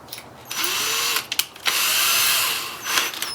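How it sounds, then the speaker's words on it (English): A power drill with a countersink bit whirs in a few bursts, spinning up, pausing briefly, then running steadily for over a second before stopping. Close and fairly loud. "I drill, I use a countersink bit because it's a nice small hole"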